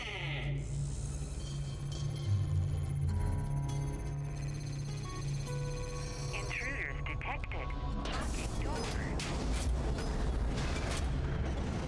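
A Hyperion tech door in the video game Borderlands 2 opens with a creaking, grinding mechanical whir and clunks, rising into a busier rattle near the end, beneath continuous game sounds and occasional talk.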